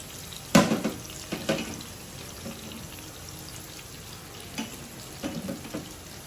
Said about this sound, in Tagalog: Maglagay na tayo ng sibuyas.